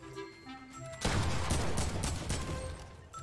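Gunfire in the Fortnite video game: a sudden dense burst of rapid shots after a quieter first second, loud and close, continuing in a ragged volley.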